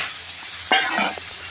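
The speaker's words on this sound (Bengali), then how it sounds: "সিদ্ধ করা শাক দেওয়া হয়ে গেছে, নাড়াচাড়া করে সামনে থেকে ভেজে নেব" Boiled pumpkin leaves hit a hot pan with dried red chillies, giving a sudden sizzle followed by scraping stirring sounds, close and clear.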